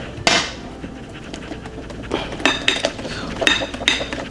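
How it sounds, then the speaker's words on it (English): Whisk breaking up lumps in chocolate cake batter in a bowl, with scraping strokes and sharp metallic clinks against the bowl, irregular and close, loud against a soft background. "I'm gonna have to move to a whisk, that way we can just finish breaking up these lumps"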